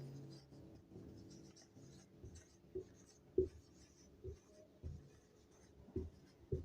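A pen writes maths working on paper, giving soft scratching strokes and small taps at irregular intervals, close and quiet, with no talk over it.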